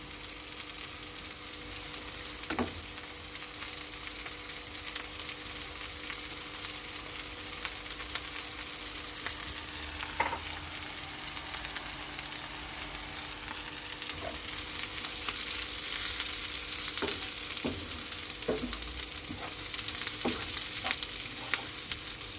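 Pickles frying in a pan for Sinop turşu kavurma, a steady close sizzle with occasional scrapes and clicks of a stirring utensil scattered throughout.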